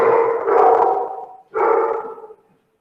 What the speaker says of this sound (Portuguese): Tá ruim de ouvir. Por causa dos latidos, né?